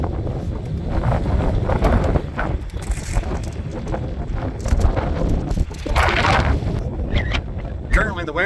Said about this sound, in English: Currently the wind's blowing 20 miles an hour